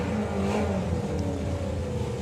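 Drag racing car at Santa Pod Raceway during championship drag racing, a distant, moderately quiet engine drone with a rising tone as it accelerates, steady throughout with no talk.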